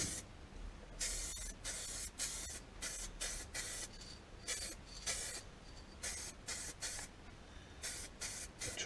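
Aerosol spray paint applied to the lower fairing of a Kawasaki ZZR1400 motorcycle: a series of short, sharp hissing bursts in an irregular rhythm, close and fairly quiet, with no talking.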